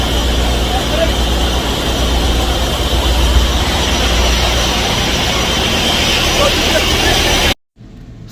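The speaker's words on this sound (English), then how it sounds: "So you can see over here, this one is purifier." A ship's oil purifier runs in a Handymax vessel's engine room, giving a loud, steady mechanical roar and hum with a constant low rumble, before cutting to near silence at the end.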